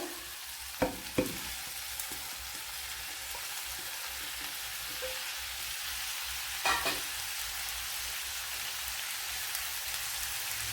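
Sliced onions sizzle in a pan with a steady, dense crackle throughout, a few louder stirring clatters near the start and middle.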